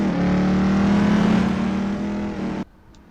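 A 1997 Panoz GTR-1 race car in Assetto Corsa revs hard and steadily, its naturally aspirated engine droning loud and close for over two seconds in a high gear before cutting off abruptly.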